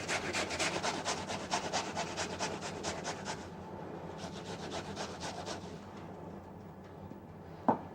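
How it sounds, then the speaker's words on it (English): Cooked, cooled potatoes are grated onto a cloth, making a steady rhythmic rasping scrape, stroke after stroke, close and fairly loud, with a pause before a few final strokes and a sharp knock at the end. "grating cooked and cooled potatoes onto a cloth"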